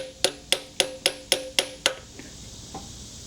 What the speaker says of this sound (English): Can't get a very good swing in here, so we'll try this chisel